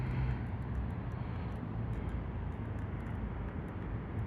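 Volantex F4U Corsair 500mm RC plane in manual flight at about 60% power, giving a steady, continuous engine drone at moderate distance with no breaks, no talk over it.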